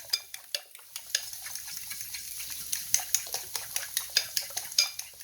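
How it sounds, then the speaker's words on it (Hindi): Three eggs beaten in a bowl with a utensil, a quick irregular series of light clinks and taps against the bowl, fairly faint and close, with no talk. "आगे ये मैंने 3 एग ले लिए जिसको मैं बीट करने लगी हूँ"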